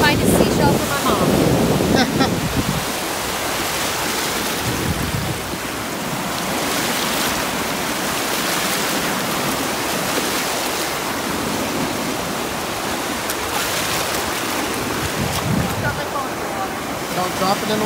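Surf breaking at Clearwater Beach, a steady wash of moderate waves with wind buffeting the microphone throughout and faint voices now and then.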